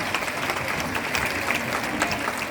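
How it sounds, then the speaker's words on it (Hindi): Dense applause from an audience at a women's empowerment event in New Delhi, a continuous wash of many hands clapping at even loudness through the whole stretch. "और इनके लिए एक बार जोरदार तालियां"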